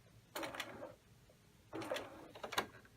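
Sewing machine stitching across the top of a self-lined patch pocket, pivoting at a corner: two separate bursts of close mechanical whirring, each roughly a second long, with a brief quiet pause between them.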